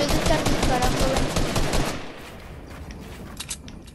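Rapid pistol gunfire in the Fortnite video game, a dense burst of repeated shots for about two seconds, then quieter game ambience with a few faint scattered pops.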